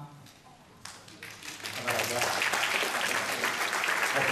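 Audience applause at a Taipei-community concert marking the Republic of China centennial, swelling from scattered claps into steady, dense clapping across a hall, with voices underneath.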